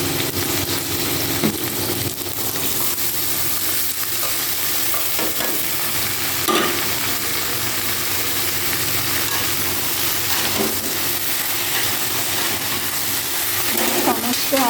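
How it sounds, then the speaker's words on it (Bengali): Potatoes fry in a hot pan with a constant loud sizzle, while a utensil scrapes and stirs them at intervals and a voice speaks faintly underneath. "সমস্ত আলুগুলো দেওয়ার পরে বেশ লাল লাল করে ভেজে নেব"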